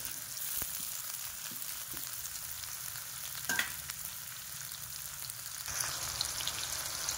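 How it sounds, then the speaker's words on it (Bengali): Onions and tomatoes fry in a pan with a steady close sizzle while a utensil stirs them, giving occasional soft scrapes and a brief louder stroke over the continuous crackle. "তারপরে এখানে অ্যাড করলাম টমেটো আর পেঁয়াজ। এটাকে নাড়াতে থাকবো যতক্ষণ লাল হয়।"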